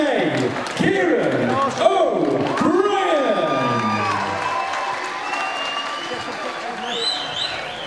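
Crowd applause and cheering at an MMA fight event, a steady roar of clapping under a loud announcer's amplified voice echoing in the hall.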